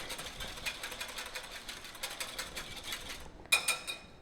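A wire whisk beats egg whites in a bowl for royal icing, giving a rapid, even run of light metallic clicks that stays fairly faint before a sharper clink near the end.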